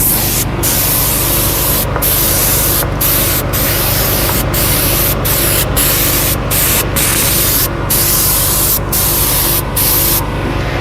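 A detailing product sprays onto an Audi S5 in a rapid series of short hissing bursts, about a dozen close, loud spritzes separated by brief gaps.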